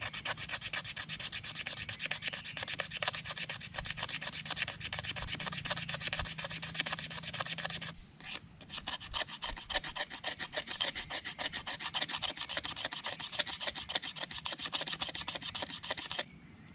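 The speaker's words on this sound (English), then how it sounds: "as I'm doing this, I am creating this finer shavings." Inner bamboo is scraped into fine shavings for a fire-saw, giving fast, continuous rasping strokes in an even rhythm, close and fairly quiet, with a brief pause midway and no speech.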